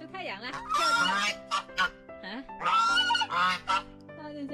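Domestic geese honk loudly and repeatedly in a farmyard in Xinjiang, harsh nasal calls in bursts with short pauses, close to the microphone, with a person's voice mixed in.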